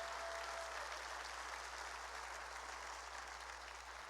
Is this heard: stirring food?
no